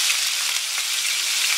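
Boiled mixed vegetables hit about a quarter cup of hot oil in a kadai for veg Kolhapuri, setting off a loud, dense, continuous hiss of frying that holds evenly from start to finish.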